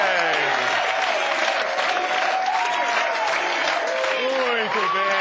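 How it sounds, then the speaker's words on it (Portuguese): Studio audience applauding on a Brazilian Sunday TV show, dense continuous clapping with crowd noise throughout, a presenter's voice carrying over it. "Uma salva de palmas para o Coronel Marinho."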